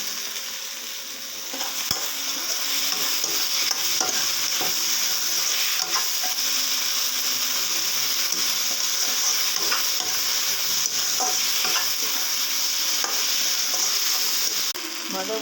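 Dried fish pieces and tomato fry in a pan for a dry fish gravy, making a loud, continuous close-up sizzle with faint stirring clicks running through it.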